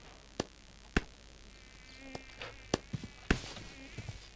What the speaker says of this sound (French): Y'a un moustique, y'a un moustique.